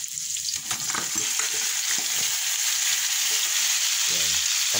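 Onions and meat fry in a pan with a steady, loud sizzle throughout, punctuated by scraping and stirring clatter close by, with no talking.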